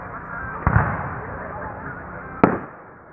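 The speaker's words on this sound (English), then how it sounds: "Got the fireworks going on here." Two sharp Fourth of July fireworks bangs, the second louder and crisper, each followed by a brief crackling tail over a dull background murmur.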